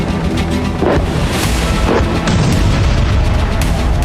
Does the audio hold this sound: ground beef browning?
no